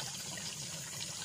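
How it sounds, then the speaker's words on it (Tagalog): Spring water welling up from the ground beside a river on a farm lot in Calauan, Laguna, makes a steady, close rushing and gurgling flow that continues evenly without voices. "tubig nandyan sa nanggagaling sa lupa maagos po siya, sagana sa tubig dito"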